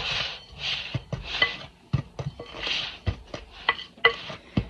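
A serving spoon stirring baking powder into peach cobbler batter in a bowl, with repeated soft scraping swishes and sharp clinks of the spoon against the bowl at an uneven rhythm, close and alone.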